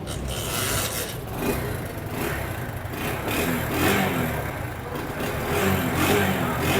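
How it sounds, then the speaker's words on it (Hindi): A Honda CD 70 motorcycle engine runs steadily after an air filter replacement, giving a continuous close mechanical rattle and hum at an even level with no speech over it. "अब सबसे लास्ट में बाइक को एक बार स्टार्ट करके भी ज़रूर चेक कर लेना है।"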